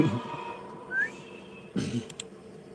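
A person whistles a short melodic phrase, a single rising note standing out against a quiet background, followed by a brief rustle and a couple of clicks.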